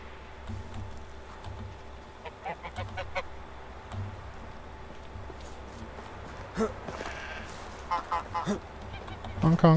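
Geese in the farming game Medieval Dynasty honk and quack in short bursts over a steady low game ambience, several calls clustered near the end, moderately close.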